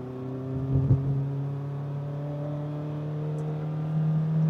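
A 2024 MG Hector SUV engine pulling hard through the gears, a steady loud drone that climbs in pitch with rising revs and briefly dips at a shift, heard from inside the cabin.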